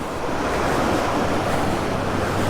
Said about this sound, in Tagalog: may falls dito na pwede nyong puntahan kung gusto nyong maligo